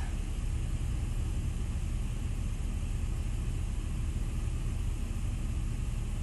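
Car engine idling at about 1000 RPM after a cold start, a steady low rumble with a faint hiss, even and unbroken throughout, with no one speaking.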